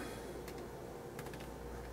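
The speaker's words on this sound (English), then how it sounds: "Stop typing." A computer keyboard clatters in a quiet room, two short bursts of light key taps over a low steady hum, faint and close, with no talking.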